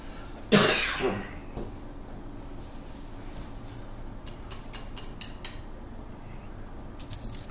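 A single short cough rings out near the start, fairly loud against a quiet room, followed by faint scattered clinks and taps.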